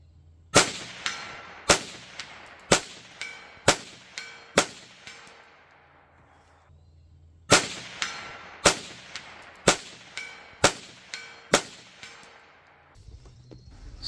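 Pistol shots fired at an outdoor pistol bay through a sight fitted with a Feyachi M40 3x magnifier: sharp, loud reports in two rapid strings of about six and eight, each ringing with a metallic clang, separated by a short pause.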